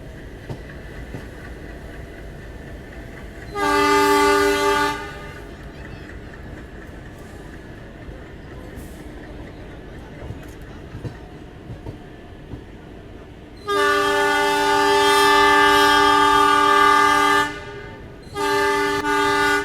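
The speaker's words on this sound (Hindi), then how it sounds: "एक और झांसी शेड का एल्को लोकोमोटिव शंटिंग करता हुआ" An ALCO diesel locomotive from Jhansi shed, NCR, shunting at a station sounds two loud, steady horn blasts, a short one and then a long one that stops and resumes, over a low idling rumble with no talk.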